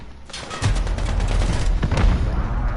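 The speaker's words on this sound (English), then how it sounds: "Enemy precision airstrike." An enemy precision airstrike hits in Call of Duty Modern Warfare Ground War mode, a loud sustained barrage of overlapping blasts and crackling gunfire with deep rumbling booms running throughout.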